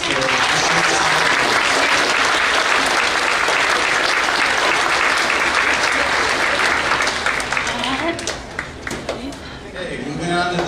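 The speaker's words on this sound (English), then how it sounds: "let's have a big round of applause for" Sustained, dense applause from an audience at a school board meeting honoring eighth-grade students, loud and continuous for about eight seconds before thinning out toward the end.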